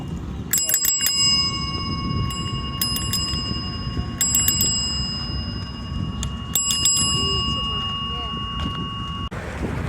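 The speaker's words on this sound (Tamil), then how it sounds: "வண்டி வண்டி பெல்லடி பெல்லடி ஏ பெல்." Bicycle bell rung in several quick bursts of rapid rings, close and bright, over steady outdoor background noise at a village temple festival.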